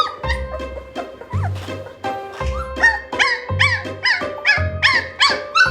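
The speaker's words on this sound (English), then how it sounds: "the 5th one, Seymour, is making a fuss" A newborn puppy in a litter whines and yips repeatedly in high, wavering cries, with low grunting sounds between them, close and insistent.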